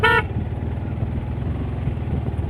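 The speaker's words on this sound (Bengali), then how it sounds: "horn horn" A vehicle horn gives one short, loud, close blast on a busy morning road near the Sajek helipad during a bike tour, then the steady rumble of engines and traffic carries on alone.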